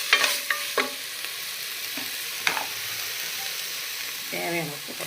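Tomatoes and green chillies sauté in hot oil for chicken biryani, a close steady sizzle broken by a few sharp spatula strokes and scrapes against the pan.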